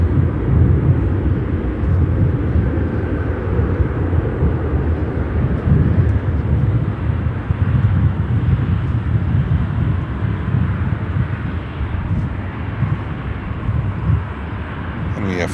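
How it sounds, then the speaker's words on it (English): An Austrian Airlines Boeing 787-9 Dreamliner takes off at Chicago O'Hare, a steady broad jet roar holding loud and even for the whole stretch with wind buffeting, no clear rise or fade. "Austrian 787-9 Dreamliner taking off and flying back to Vienna in Austria."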